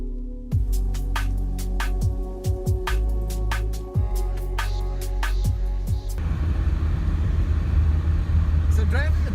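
A car drives along snow-covered back roads in Vermont in winter, with a steady low engine and road rumble throughout, repeated clicks and knocks in the first part, and a rougher rushing noise toward the end.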